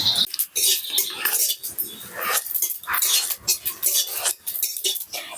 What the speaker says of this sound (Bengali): এবার আমি শুকনো কড়াইতে কিছুটা পাঁচফোড়ন দিয়ে ভেজে নেব।